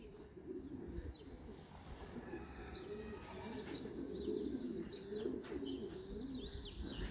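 Racing pigeons coo steadily in a low, rolling murmur, with scattered higher chirps above and a faint flutter of wings, continuous and moderately close.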